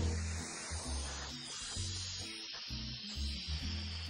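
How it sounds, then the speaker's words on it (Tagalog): Constant crackling hiss of food frying in hot oil, close up and steady, with some low background hum. "nagsisizzle na lang siya, no? Kasi mantika na"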